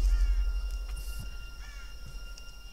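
A bird calling in the video game Tomb Raider, a couple of short harsh caws over a low rumbling outdoor background, moderately distant.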